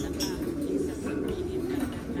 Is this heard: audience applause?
no